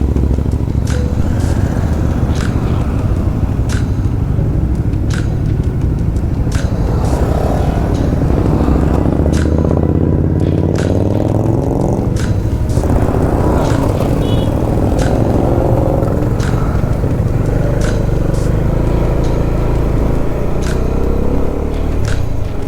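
A group of nine motorcycles on a Republic Day ride around Tirupati, their engines blending into a loud, unbroken rumble with heavy wind noise and occasional sharp ticks, heard from among the riders.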